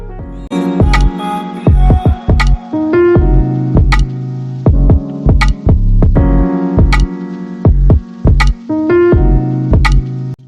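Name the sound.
sewing machine stitching a lehenga hem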